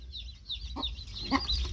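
Hen clucking in a farmyard with hens raising chicks, a few short soft clucks spaced apart against low background noise.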